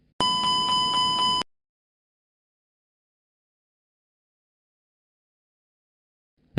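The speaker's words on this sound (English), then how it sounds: "The master warning light illuminates and the continuous repetitive chime sounds." Airbus A330 cockpit master warning chime sounding for an APU fire: one loud, steady harmonic tone lasting just over a second, followed by a long silence, then the start of another burst.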